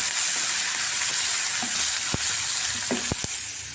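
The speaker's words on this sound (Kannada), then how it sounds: "ಒಗ್ಗರಣೆ ಒಳಗೆ ಆ ಕಾಳು ಮತ್ತು ತರಕಾರಿ ಹಾಕಿದ್ದೀನಿ" Cooked cowpeas and vegetables hit hot tempering with onion and green chilli, giving a loud continuous sizzle with a few sharp spoon knocks against the pan as the mix is stirred.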